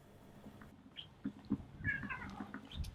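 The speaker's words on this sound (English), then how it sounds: "He's a neighbourhood cat." A neighbourhood cat meows several times outdoors at night, close by and fairly clear, with short soft calls and quiet background noise between them.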